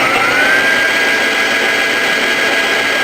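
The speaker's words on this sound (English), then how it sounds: "As long as my drill don't give out." A battery-powered drill whines steadily and loudly for the whole stretch while reloading .223/5.56 ammunition, its motor pitch holding constant without pauses.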